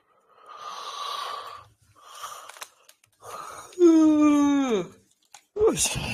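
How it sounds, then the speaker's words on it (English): A person yawns aloud: a long, rising breathy yawn that swells into a strained, drawn-out vocal moan before trailing off, with soft breaths before it and a short burst at the end. "That's why I'm yawning like that."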